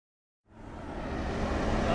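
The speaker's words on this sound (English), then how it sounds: "That noise you can hear in the background is the combine." A combine harvester working in a field at harvest, a steady broadband rumbling drone that fades in after half a second and stays constant, heard from some distance with no talk.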